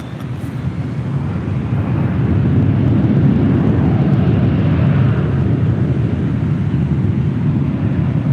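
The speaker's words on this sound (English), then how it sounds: "Next arrival is Southwest Airlines Flight 1189 coming in from Baltimore, 737-800." A Southwest Airlines Boeing 737-800 arriving at LAX from Baltimore, a loud sustained low jet roar that swells and holds steady, with wind rumble and no speech.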